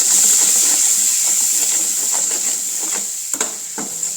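Spices tempering in hot oil for patra make a loud, bright, steady sizzle that eases slightly over time, ending with a couple of sharp clinks from stirring; nobody speaks.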